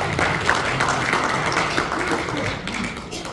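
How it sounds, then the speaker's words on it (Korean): An audience at a Christian citizens' forum gives a steady round of applause to welcome a speaker, filling the room evenly, with some voices mixed in. "우리 박수로 받겠습니다."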